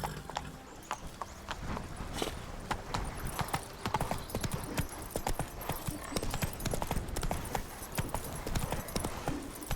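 The horse Roach gallops in The Witcher 3, with rapid, rhythmic hoofbeats running steadily close by and a brief whinny near the start, all over faint background ambience.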